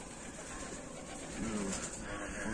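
Pigeons coo softly on a rooftop, a low murmuring call rising around the middle of the clip over steady outdoor background noise.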